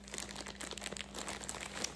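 Soft, continuous crinkling of a plastic bag being handled, quiet and close, with irregular rustling crackles and no talking.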